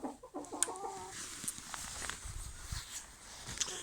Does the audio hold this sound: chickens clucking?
yes